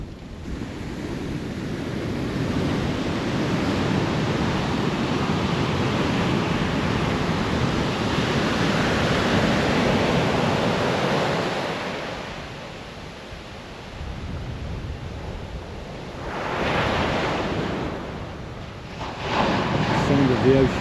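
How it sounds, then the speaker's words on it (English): Ocean surf rolls in along a coast: a broad, steady roar of breaking waves that swells and eases, with wind buffeting the microphone and a louder surge near the end. "Sound of the ocean."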